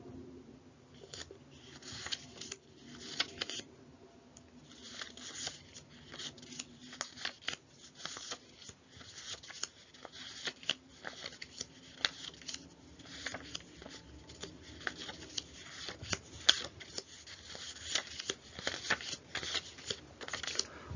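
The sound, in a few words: shuffling phonics cards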